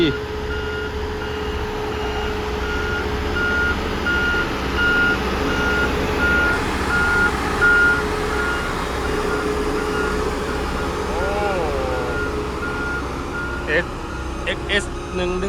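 A new XCMG GR2205 17-ton road grader working on a site, its reversing alarm beeping in a steady repeated pattern over continuous diesel engine rumble, with other machinery noise nearby and no clear talk.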